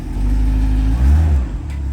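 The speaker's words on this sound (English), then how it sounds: "It's 1984 Corvette. Reverse lights work. Go ahead. And there he goes. First time actually driving it." A 1984 Chevrolet Corvette C4, fresh from a new starter and distributor, rumbles loudly up close as it pulls away, its steady engine drone swelling briefly before easing off.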